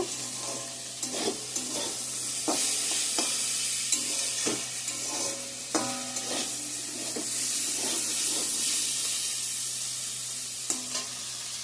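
Dhenki shak greens sizzle and hiss in a hot pan, with repeated clinks and scrapes of a spatula stirring them at close range and no voices.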